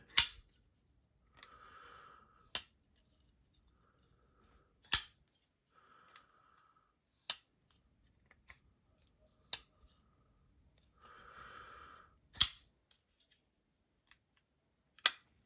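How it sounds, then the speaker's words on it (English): A Hoback folding knife snapping open and shut repeatedly, sharp isolated clicks and thwacks spaced a second or two apart, with soft fumbling rustles between them in a quiet room. "Sounds are okay. They're very muted on the close. But on the opening, you can get a good thwack."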